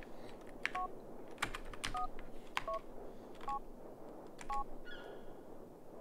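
Touch-tone phone dialing in the Grand Theft Auto: The Ballad of Gay Tony video game, a run of about six separate DTMF keypad beeps at irregular intervals, clear and fairly close over a steady low background hum.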